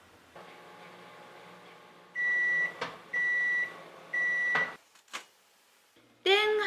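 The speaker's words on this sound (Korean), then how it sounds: "전자레인지에 넣고 3 내지 5분간 돌려주세요." A microwave oven hums steadily, then three loud evenly spaced beeps sound, followed by a door clunk and a brief rattling clatter.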